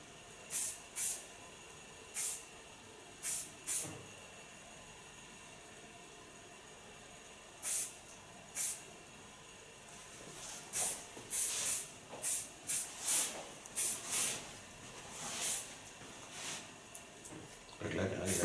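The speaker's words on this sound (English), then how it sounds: "Little bit hairspray." Hairspray hisses from an aerosol can onto a short platinum blonde pixie cut in a salon, in a string of brief bursts that grow more frequent toward the end, with faint background noise.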